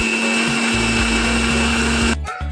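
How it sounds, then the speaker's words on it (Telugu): Mixer grinder whirring steadily while blending apple pieces with milk, sugar and cardamom, a loud constant motor drone with a thumping churn beneath, cutting off sharply near the end. "అన్నీ వేసాక ఒకసారి మిక్సీ పట్టుకుందాం."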